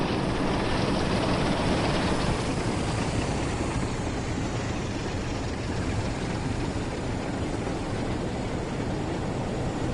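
A British Rail Class 47 diesel locomotive in Train Sim World 5 rumbles steadily in cab or running sound, a continuous loud broadband engine and rail roar with no breaks and no talking.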